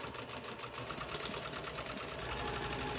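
A sewing machine runs steadily while stitching sport elastic onto fabric, a close, continuous rapid mechanical whir with no break.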